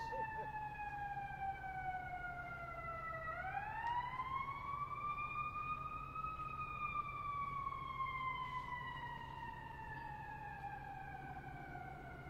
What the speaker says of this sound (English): I'll wait till the siren passes.